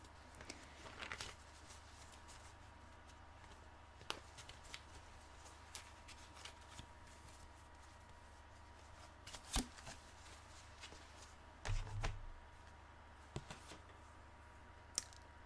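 Tarot cards shuffled during a reading, heard as quiet, intermittent riffling and soft clicking bursts, with a louder flurry near the end, over a faint steady background hum.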